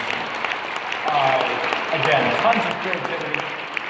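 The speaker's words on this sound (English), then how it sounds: "Big round of applause for the top 20 winners." Audience applause at a SleeterCon 2015 conference session for the top 20 winners, steady clapping throughout with someone talking over it.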